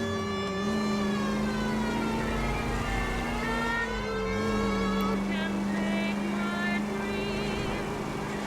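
Police car siren in the video game L.A. Noire, a wavering wail that rises and falls continuously over a low engine drone throughout.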